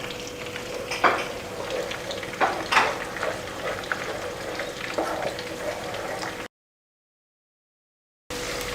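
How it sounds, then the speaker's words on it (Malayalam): Chilli chicken sauce bubbling in oil in a pan: a continuous sizzling, bubbling hiss with occasional louder pops and a faint steady hum, broken by a brief stretch of total silence. "തിളച്ച് വരുന്നുണ്ട്"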